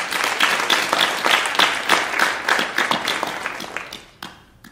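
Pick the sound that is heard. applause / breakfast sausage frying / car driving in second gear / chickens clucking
applause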